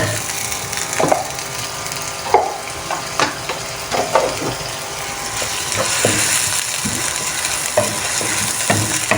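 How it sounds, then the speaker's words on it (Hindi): Onion and minced meat fry in a pan with a constant close sizzle. A spoon stirs and scrapes at irregular intervals, and there is no talking. "प्याज हमने बस थोड़ा सा सौते करना है। फिर मैं इसमें कीमा शामिल करूँगी।"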